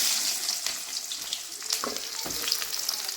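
Fennel seeds and onions hit hot oil in a pan for mushroom gravy, giving a steady close sizzle with occasional scraping stirs and faint watery crackles, with no talking.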